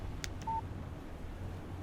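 In Alan Wake Remastered, a phone gives a brief electronic text message alert, a single short clean tone over a quiet low hum.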